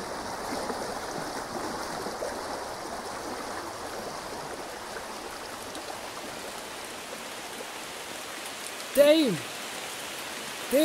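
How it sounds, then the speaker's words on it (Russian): Heavy downpour of rain used as a music transition, a steady dense hiss of falling water throughout, with a brief louder sweep near the end. "переход дождя, переход ливня"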